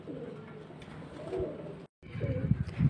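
Golden Pakistani pigeons coo in soft low throaty rolls, close by, with a short gap before the cooing resumes a little louder.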